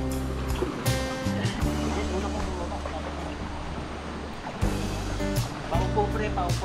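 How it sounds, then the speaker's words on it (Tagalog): Strong rushing water from Baawan Falls in Sitio Quinao, Rizal, a steady broadband roar throughout with people talking over it nearby. "So ayan yung falls."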